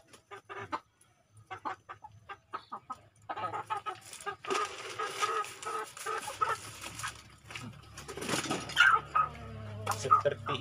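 Free-range chickens cluck in a garden, scattered clucks near and far with hens and chicks moving about, while a person talks over them throughout.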